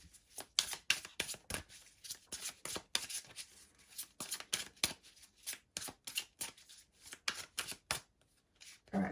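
Tarot cards are shuffled by hand close up in a quiet room, quick crisp riffling bursts repeating in irregular rhythm with brief pauses between them.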